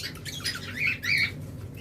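A pair of red-eye lovebirds gives sharp, high chirping calls in two bursts over a steady low background hum, fairly close and moderately loud.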